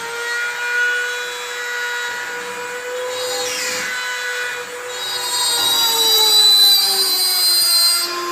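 A drill bores holes through an animal skull for a horn mount: a steady, whining motor tone with sliding pitch as the bit bites and eases, close and continuous, with no one talking.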